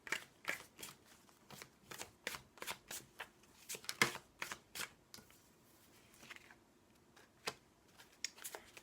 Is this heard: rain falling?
no